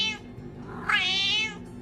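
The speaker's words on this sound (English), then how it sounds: "you might even spot a cat with an accent" A cat gives a short chirp, then a longer, louder rising meow close by over a low background hum, in Liverpool.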